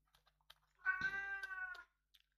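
A cat gives one clear, drawn-out meow lasting nearly a second, close and fairly quiet, while scattered soft clicks sound before and after it in an otherwise quiet room.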